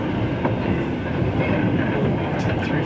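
CN freight train cars rattling and bouncing on the track close by, with a continuous loud rumble, clattering wheels and metallic clanks, and faint high squeals near the end.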